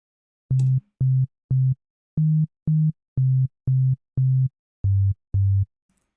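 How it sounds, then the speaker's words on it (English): Ten short, clean 808 bass tones play from a synthesizer in a rhythmic pattern, the pitch shifting slightly up in the middle and down near the end, with no other sounds. "record a pattern so that we can hear our 808 playing back"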